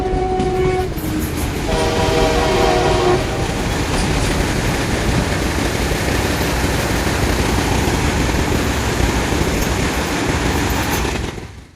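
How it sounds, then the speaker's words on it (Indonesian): A train rumbles past at close range, its horn blaring in long tones at the start before the steady roar of wheels and cars carries on. "kereta api."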